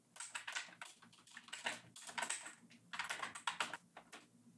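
Computer keyboard keys clatter in quick, uneven bursts as a command is typed on a Linux command line, close and fairly quiet, with brief pauses between runs of keystrokes and no voices.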